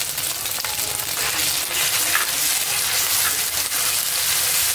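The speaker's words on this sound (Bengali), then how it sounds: "এবার এই মশলাগুলোকে আমি হালকা ভেজে নেব" A ground paste of onion, chili and garlic frying in hot oil, a steady close sizzle with dense crackle running unbroken throughout, no voices.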